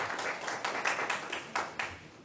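Scattered audience clapping at a city ethics commission meeting, a handful of distinct claps fading out over a couple of seconds, fairly faint in the room.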